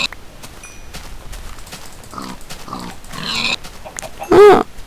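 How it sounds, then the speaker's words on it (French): Pigs in the Minecraft video game give a brief, loud grunting oink near the end, rising over a quieter bed of game ambience and soft scattered noises. "Ah, un cochon."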